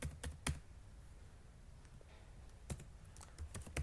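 Keys on a computer keyboard are typed in short, sparse bursts of clicks while text goes into an input field during a Node.js and MongoDB coding class, quiet and close, with no talking.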